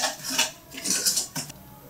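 A spoon stirs dry chocolate-cheese pudding ingredients in a bowl, making a close series of scraping, clinking strokes in uneven bursts with no talking.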